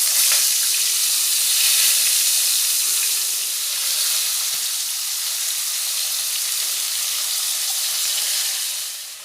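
Washed cut potatoes sizzle loudly and continuously in hot mustard oil in a kadai, a dense, close, steady frying hiss that eases slightly toward the end.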